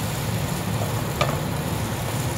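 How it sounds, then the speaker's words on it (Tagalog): Carrot and potato stir-fry in a pan with a dense, continuous sizzle that stays even throughout, close by, with one brief utensil scrape near the middle. "Stir lang tayo ng stir. Halo lang ng halo."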